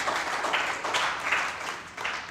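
An audience at the ICMRC 2023 academic conference claps for an honoured vice chancellor, a brief, moderately quiet burst of applause swelling in small waves.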